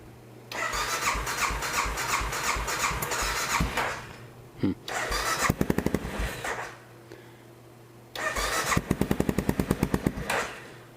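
An Aprilia Pegaso 650 motorcycle cranking in three bursts, the starter whirring before the engine catches into rapid uneven firing pulses, with short pauses between attempts.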